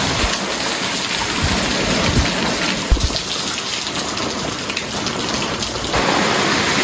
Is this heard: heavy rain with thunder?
yes